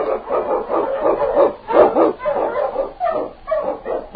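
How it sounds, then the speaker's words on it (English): A team of huskies barks and yips excitedly as the sled sets off in the Yukon, a dense, continuous chorus of close barking in an old 1946 radio drama recording. "On King! On, you huskies"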